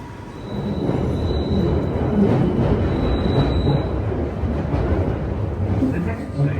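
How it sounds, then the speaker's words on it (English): A refurbished London Underground Central Line 1992 stock train runs between stations, a loud continuous rumble of wheels on track with a rising motor whine and faint squeals, heard from inside the carriage. "This is a Central Line train to White City."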